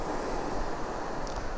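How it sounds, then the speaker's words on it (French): Sea surf heard from a seaside house in Tenerife, a continuous soft broadband wash of waves rolling in, fairly faint and steady with no talking. "Donc le seul bruit que vous entendez ici, c'est celui de la mer."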